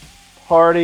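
Pork belly yakisoba noodles land on a hot griddle with a sudden loud sizzle that swells and holds close up after a quiet moment.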